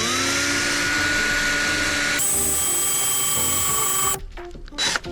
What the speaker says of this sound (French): vous allez tout simplement percer votre tasseau